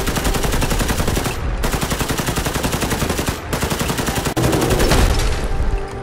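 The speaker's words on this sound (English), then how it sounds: "Come on, my trusty AK." Sustained automatic AK rifle fire in Fallout 4, loud and close, rattling in long bursts with brief pauses between them and no talking.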